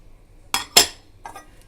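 Two crisp metallic clinks come close together, then a fainter third, as the steel bowl and glass lid of a rice cooker knock against each other up close.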